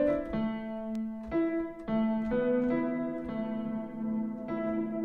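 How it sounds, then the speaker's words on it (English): Grand Piano AUv3 app on iPad playing sustained piano chords and melody notes with heavy reverb high in the mix, each attack blooming into long ringing tails, steady and moderately loud with no talking. "the reverb is actually quite good if we put it quite high in the mix"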